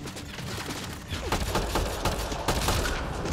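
Gunfire in the video game Mass Effect Andromeda, a burst of sharp rapid shots cracking in quick succession, loud and close, with scattered thuds between.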